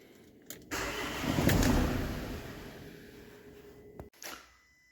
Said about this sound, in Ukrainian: Запускається і глухне.